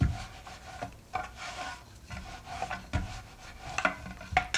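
Wooden rolling pin rubbing and thumping as samosa dough is rolled into a thin sheet on a floured surface, with irregular rasping strokes and soft knocks, close and fairly quiet, no talk.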